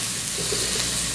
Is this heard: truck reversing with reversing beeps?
no